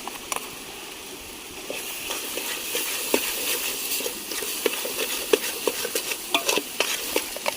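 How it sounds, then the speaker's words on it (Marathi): Ground masala paste goes into chicken frying in a pan over an outdoor village fire. A soft, steady sizzle runs under repeated scraping and stirring clatter, with the stirring growing busier toward the end. "टाकूया आता वाटप मसाले जाळायच्या अगोदर वाटप टाकून द्यायचा"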